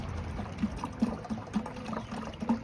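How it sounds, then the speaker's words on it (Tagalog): Water being poured into a container for racing pigeons, a soft continuous trickle and gurgle with small splashy bubbling pulses, fairly faint with no talking. "Ito muna sinasalin ko, tubig muna."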